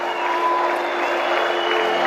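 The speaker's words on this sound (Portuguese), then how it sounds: "Nós vamos ouvir esses aplausos porque são mais do que merecidos." Crowd applause at a tribute to the Chapecoense football club, a dense steady wash of clapping that holds at an even, fairly loud level for the whole stretch with a faint cheer or two mixed in.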